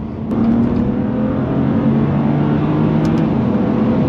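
The S55 engine of a BMW M2 Competition drones loud and steady from inside the car, a sustained harmonic engine note with road noise underneath and no talking.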